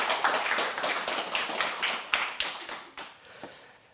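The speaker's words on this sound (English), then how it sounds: "Can we give Adam a round of applause?" A small group claps for a speaker at a church gathering, a loose run of distinct, fairly close hand claps that thins out and fades toward the end, with no voices over it.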